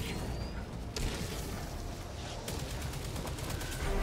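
Gunfire in Helldivers 2, a dense, continuous barrage of rapid shots with sharp cracks standing out near the one-, 2.5- and four-second marks, loud and close throughout.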